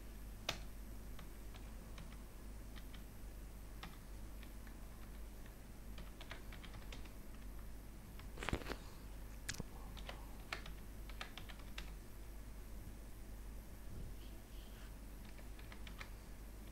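Computer keys click in quiet, irregular taps while data is entered into an Excel spreadsheet, faint against a steady low hum, with one slightly louder burst of clatter midway.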